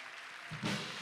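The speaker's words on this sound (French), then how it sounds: "Est-ce qu'on peut les applaudir?" A church congregation applauds people being baptized, with a quiet wash of many hands that swells briefly partway through, heard from a distance in a reverberant hall.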